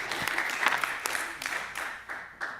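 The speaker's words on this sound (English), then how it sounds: "Can we give Amy a round of applause?" A city council meeting gives a round of applause for Amy, a short, moderately loud burst of clapping from a small group that tapers off quickly.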